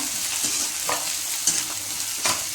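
Carrots sizzle steadily in a pan for gobi fried rice, and a spoon scrapes and stirs them every second or so, close by.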